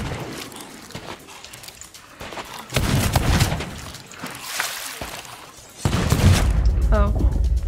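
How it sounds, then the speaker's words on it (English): Skeleton enemies firing guns in the pirate game Sea of Thieves, scattered sharp shots and booming bursts mixed with game noise, under excited talk. "Oh, there's one with gunshots."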